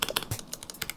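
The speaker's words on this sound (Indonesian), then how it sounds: "Tapi kalau di keyboard ya rasanya seperti ini." Rapid keystrokes on a 65% mechanical keyboard with 68 keys, crisp clicky taps in an uneven burst, close and clear with no talking.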